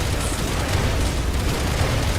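A missile explosion in the video game Resident Evil 6 gives a loud, sustained, rumbling roar of blast noise that fills the whole clip at a steady level, with no talk over it.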